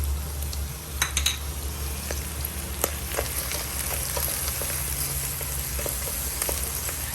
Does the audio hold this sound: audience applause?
no